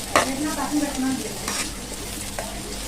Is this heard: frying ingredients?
yes